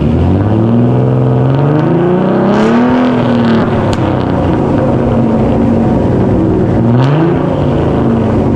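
A 1000 hp Toyota Supra with an 8HP gearbox revs hard on a dyno, its loud engine note climbing and dropping through repeated shifts, steady and close with no pauses.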